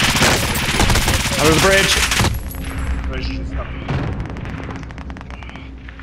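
Rapid automatic gunfire bursts in Call of Duty: Modern Warfare, loud and dense at first then cutting to scattered distant shots, with a voice speaking briefly over the shooting.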